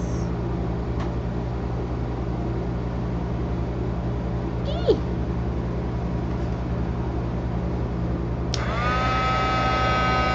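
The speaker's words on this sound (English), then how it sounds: "the reason why you're angling your heat gun from high is so that when you turn it on, all the embossing powder doesn't go flying all over the place" A heat gun blows across embossing powder on a grungy steampunk mixed-media tag, giving a steady airy whoosh and hum throughout, with a brighter whine rising near the end.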